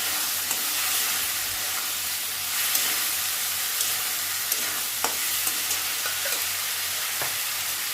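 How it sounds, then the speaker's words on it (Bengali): Spice paste with salt and turmeric being sautéed in a pan, a steady soft sizzle and hiss with occasional stirring scrapes and small pops, close and continuous with no talking. "এবার ভালো করে মশলাটা কষিয়ে নিচ্ছি ভালো করে"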